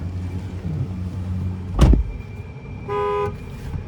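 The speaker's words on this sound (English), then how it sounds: "There's the horn sound there." Horn of a 2009 Nissan Frontier LE crew cab pickup with the 4.0 V6, heard from the driver's seat as one short steady honk near the end, following a loud thump over low cabin rumble.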